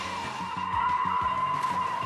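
Tires squeal as a small car spins donuts on a tight driving course, a loud continuous screech with repeated sliding pitch sweeps under a steady engine drone.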